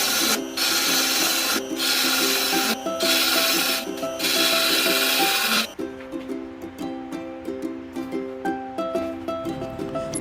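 Wood is cut and shaped with a tool, first in loud rhythmic rasping strokes that then give way to quieter, repeated scraping pulses with a steady hum underneath.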